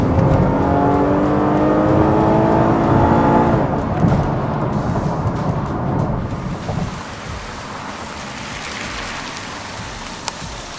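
A 2010 Chevy Camaro V6 accelerates hard from inside the cabin, the engine note climbing in pitch for a few seconds before giving way to loud broadband road and wind rush.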